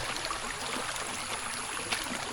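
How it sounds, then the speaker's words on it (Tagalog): A strongly flowing river rushes steadily, a broad continuous wash of water close by with no voices over it. "River flows, malakas ang daloy ng tubig."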